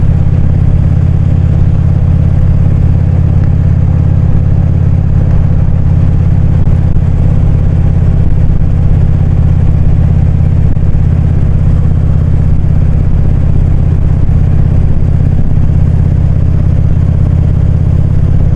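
A motorcycle ridden on local roads, its engine holding a steady loud low drone throughout with wind rush over it and no speech.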